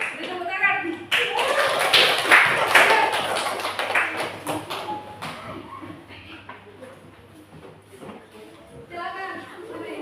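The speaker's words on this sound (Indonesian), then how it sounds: "Beri tepuk tangan." A classroom of children claps for classmates about to present, a burst of bright hand claps peaking early and dwindling to scattered taps, with children's voices chattering around and after it.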